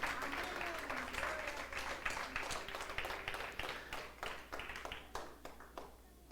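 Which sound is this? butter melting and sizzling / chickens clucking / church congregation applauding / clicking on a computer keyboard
church congregation applauding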